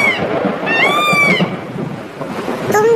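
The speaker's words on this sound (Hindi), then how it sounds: "बाहर बहुत तेज बारिश हो रही है।" Heavy rain pours in a continuous loud hiss while thunder rumbles through it, with brief rising and falling tonal cries layered over the storm.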